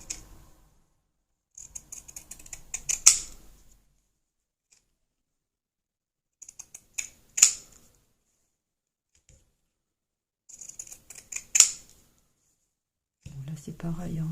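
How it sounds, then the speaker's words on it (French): Pinking shears snip through fabric and lace scraps in three separate bursts of rapid close crunching cuts, with quiet gaps between them and brief soft handling noises at the end. "je vais couper au cranteur"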